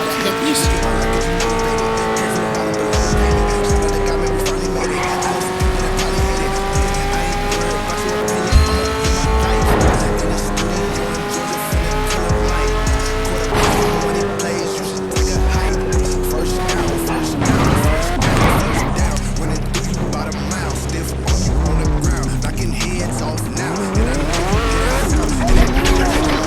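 A car in the Gangstar IV video game accelerates hard with revving engine and repeated tire squeals and skids over game music, loud and continuous throughout.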